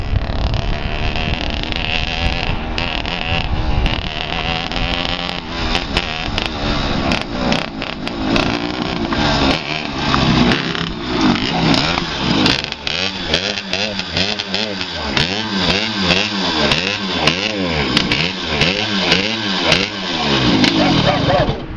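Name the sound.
racing kart engine running and misfiring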